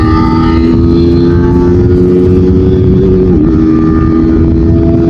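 A Yamaha R15M 155cc motorcycle engine runs at high speed in fourth gear, a loud, close, steady high-revving drone whose pitch dips briefly before holding again.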